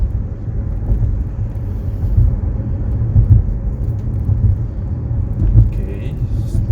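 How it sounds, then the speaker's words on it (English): Slow-moving road traffic heard from inside a Mazda CX-5 2.2 diesel, a steady low engine and road rumble throughout while someone talks over it. "Okay, slow moving traffic."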